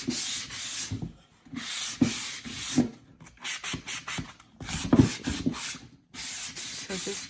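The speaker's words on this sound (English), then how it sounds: "gently sand it down with the grain, gently" Hand sanding of solid oak for a plant stand, stroking with the grain: close, rhythmic rasping bursts of uneven length with short silent gaps between strokes.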